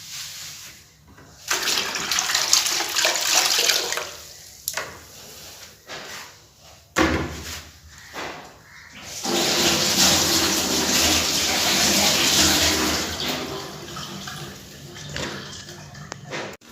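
Water runs steadily from a tap into a bathing area at home, with broad splashing bursts broken by short pauses and a longer continuous pour in the second half, close and fairly loud.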